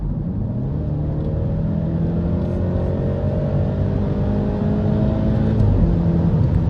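A BMW X5M in M mode accelerating hard on kickdown, steady loud engine roar with rising gear tones pulling toward redline, continuous and close from inside the cabin.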